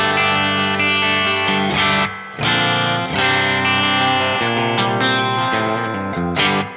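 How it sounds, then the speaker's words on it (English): Electric guitar played through a Mesa Studio Preamp with the C+ mod, on the clean channel with reverb raised: loud chords and picked notes ring out one after another, each with a reverberant tail and short gaps between phrases. "Right now we are on the clean channel, and let's raise the reverb so we can hear it switch on or off."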